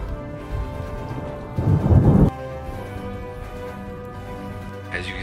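A heavy hail storm with pouring rain in Colorado Springs fills the air with a constant close hiss, a burst of louder drumming in the middle and low thunder rumbling beneath.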